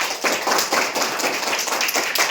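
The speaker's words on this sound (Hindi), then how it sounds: "और एक बार सबके लिए जोरदार तालियां" A group claps together, brisk continuous applause lasting a couple of seconds at close range.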